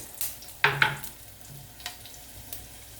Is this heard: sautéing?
yes